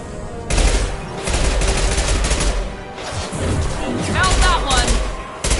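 Video game gunfire in a space setting: loud bursts of rapid automatic fire and scattered shots in quick volleys, with several excited voices shouting over the shooting.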